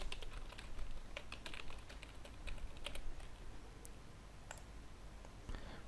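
Computer keyboard keys clatter steadily while a wall type name is entered in Revit 2020 architectural software, a continuous run of close, fairly quiet clicks with no voice.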